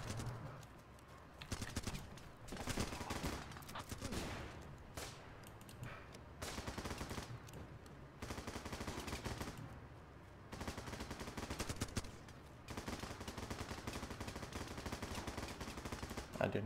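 Rifle gunfire in the war game Running With Rifles: dense, continuous bursts of shots and rapid automatic fire, fairly quiet overall, with a few short pauses.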